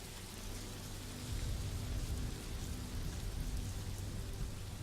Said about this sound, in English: Did you say it's raining outside? Yeah, it's thundering.